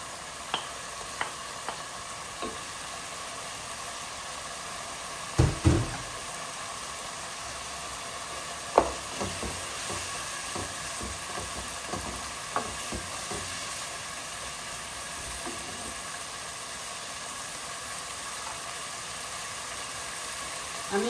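Chicken pieces with onions, ginger and garlic frying in a pan, with a steady sizzle and scattered scraping stirs and clinks of a spoon against the pan, close and moderately loud, no talking.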